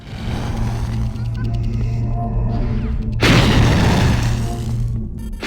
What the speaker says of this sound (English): Wait, what the hell are those explosions near?